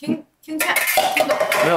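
A metal spatula clatters against a wok in rapid continuous scraping and clanking, close and fairly loud, with someone talking over it.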